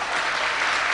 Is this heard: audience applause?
yes